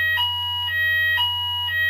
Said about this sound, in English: This is a fire alarm that goes off every Thursday